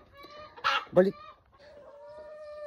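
Chickens cluck from a small traditional coop where hens are shut in for the night: two louder bursts of clucking, then softer, drawn-out calls trailing off, with no talk.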